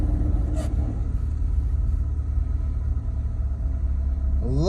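A 2001 Mitsubishi Mirage engine runs in a low, steady idle rumble close by, with a brief high whine early on and a rising whirr of revving at the end.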